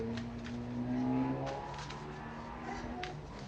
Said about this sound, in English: You hear like motorcycles and stuff, that's because I'm outside.